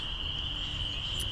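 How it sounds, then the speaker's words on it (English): A springtime chorus of spring peeper frogs makes a continuous high, shrill trill outdoors, steady and fairly faint, with no voices. "this time of year we have the spring peeper frogs,"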